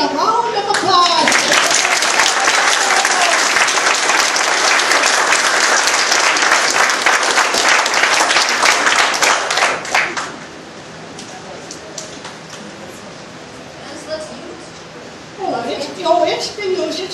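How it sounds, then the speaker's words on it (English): An audience at a family reunion gives a loud, sustained round of applause lasting about ten seconds, then fades to quiet room noise with a few voices talking near the end. "Everybody give Becky a round of applause"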